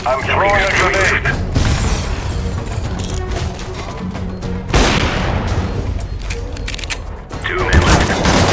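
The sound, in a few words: grenade thrown and exploding in video game Counter-Strike mobile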